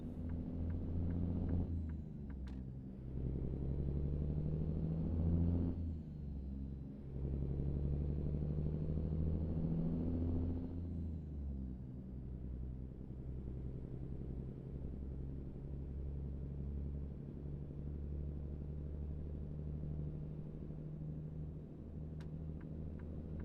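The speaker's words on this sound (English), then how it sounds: "we get to listen to the glorious sounds of the Cummins N14" A Cummins N14 diesel in a big rig in American Truck Simulator, driving US395 from Burns to Pendleton, Oregon, gives a steady, deep, close engine rumble. It rises and dips with a few gear changes and settles into a long, even drone, with no talk.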